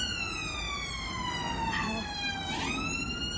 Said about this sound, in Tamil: என்ன சவுண்ட் கேட்குறீங்களா ஆம்புலன்ஸ் போயிட்டுருக்கு